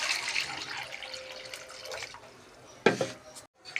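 Water runs into a cooking pot holding salted potatoes set to boil, a close, splashing pour in uneven bursts with a sharper gush near the end.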